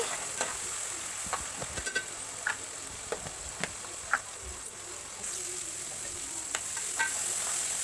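Chopped onion and tomato with turmeric and salt cooking in a pan, a soft steady sizzle with occasional scraping stirs and light clinks of a spoon, close up and no talking.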